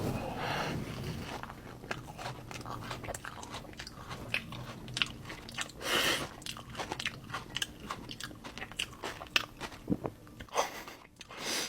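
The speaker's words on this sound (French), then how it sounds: "vous avez entendu comme ça croustille sous la dent" Crisp, close bites and chewing crunches into a layered chocolate-hazelnut crunchy pastry with whipped vanilla ganache, coming as a series of sharp bursts spread irregularly across the clip.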